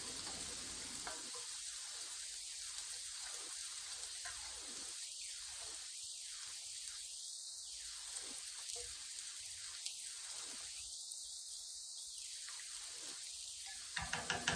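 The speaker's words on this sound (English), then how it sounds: "you're going to want to stir in your cheese until it melts" Cheese being stirred into a cauliflower and sausage keto soup in a pot, a steady soft sizzle and bubbling with repeated spoon swishes rising and falling, close and fairly quiet, no talking.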